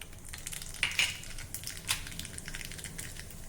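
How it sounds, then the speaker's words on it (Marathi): Cumin and mustard seeds crackle and sizzle in about a tablespoon of hot oil in a kadhai for tempering, quiet spitting pops and hiss with a few sharper bursts, heard close with no voices. "तेल गरम झालं की त्यामध्ये थोडं जिरं मोहरी घालूया."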